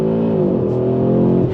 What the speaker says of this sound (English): Let's do a launch control of the new 2025 Audi RS3.